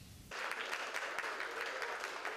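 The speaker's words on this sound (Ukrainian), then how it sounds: "В актовій залі гімназії Володимира Балуха зустрічають оплесками" An audience in a gymnasium assembly hall applauds to greet a guest: sustained clapping from many hands starts abruptly and stays dense and even, moderately loud, without speech.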